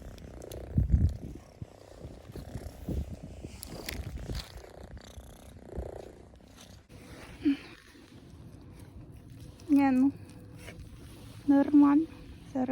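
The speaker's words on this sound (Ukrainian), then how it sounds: "Оце єдинственна, яка муркає." A cat purrs softly nearby in a low steady rumble, with brief higher vocal bursts and some rustling and handling noise around it.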